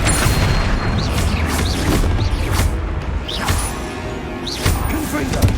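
Flipendo spell casts in Hogwarts Legacy land as several sharp whooshing blasts and booming impacts amid hectic combat noise, with someone shouting spell names between them.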